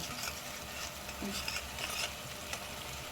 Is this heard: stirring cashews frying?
yes